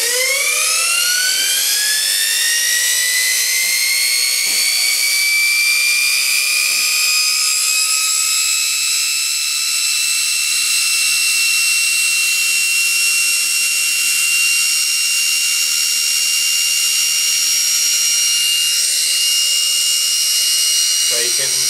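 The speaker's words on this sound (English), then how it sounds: "it's going to be noisy because the brushes have been filed to a point" A rotary transformer with its brushes filed to a point, spinning up to a loud, steady high-pitched electrical whine that rises quickly, then holds constant with a faint rough buzz underneath.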